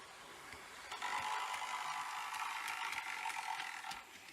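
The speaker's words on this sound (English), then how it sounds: "the mechanism was grinding up against the plastic body of the locomotive" A Walthers SD60M model locomotive running around a curve gives a steady, faint mechanical whir with a rough grinding, ratcheting edge as its mechanism rubs against the plastic body, continuous and close.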